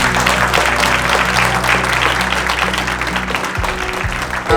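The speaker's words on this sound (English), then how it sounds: "So just let's give them a round of applause." A loud, dense round of applause from the audience at a civil engineering leadership conference, sustained and even, with a low musical hum underneath that drops out near the end.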